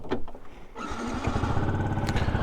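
A Yamaha YZF R125 motorcycle engine starts up after a brief cranking and then settles into a steady, loud, close idle with a throbbing mid-frequency rumble.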